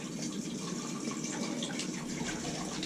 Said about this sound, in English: Just pouring it in there.